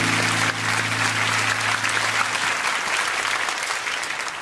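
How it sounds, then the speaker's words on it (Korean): Church congregation at a special early-morning revival service applauds warmly, a sustained wash of clapping from a large crowd that tapers slightly near the end, with a faint sustained tone beneath at the start. "우리 한 번 더 박수를 축복합니다."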